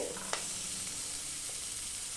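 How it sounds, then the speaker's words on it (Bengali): Sabudana roll ingredients sizzle and fry in a pan while a spoon stirs them, a close, steady hiss broken by one sharp scrape near the start. "এটা প্রায় 1 মিনিট ধরে নাড়াচাড়া করলাম।"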